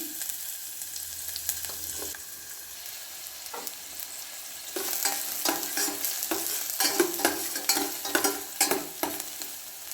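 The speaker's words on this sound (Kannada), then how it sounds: "ಜೊತೆಗೆ ಕಟ್ ಮಾಡಿರುವ ಈರುಳ್ಳಿಯನ್ನು ಹಾಕ್ತಾ ಇದ್ದೀನಿ" Chopped onion added to hot oil for a vegetable soup, sizzling and frying with scraping stirs that grow louder and busier in the second half, no talking.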